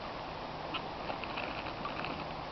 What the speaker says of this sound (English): they'll start squawking to warn the others there's a dog